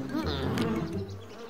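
A close, steady buzzing of bees, droning continuously throughout the short moment.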